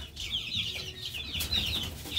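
Two-month-old chickens, raised on natural feed, cluck and chatter together in a flock, a steady close-up stream of overlapping calls with no voices.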